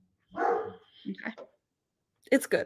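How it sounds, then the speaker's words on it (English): A dog barks in short bursts at moderate volume, a few sharp yaps early and another cluster near the end, with people speaking briefly in between indoors. "I'm so sorry about my dog."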